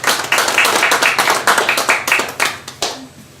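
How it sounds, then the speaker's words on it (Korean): Audience applause at a year-end gathering: a crowd claps briskly and fairly loudly, close by, the patter thinning and fading toward the end. "박수 한번 다시 부탁합니다."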